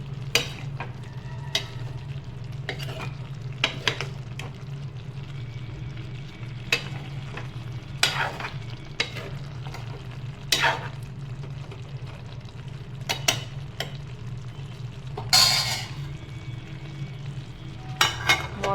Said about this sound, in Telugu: ఇవన్నీ ఇప్పుడు కలిపేస్తాం.